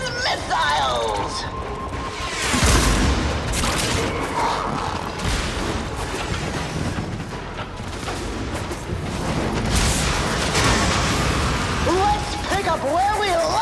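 Missile explosions in the Warframe video game, a heavy crash and booming impact near the start with rumbling blasts and mechanical clatter following, loud and close beneath a speaking voice.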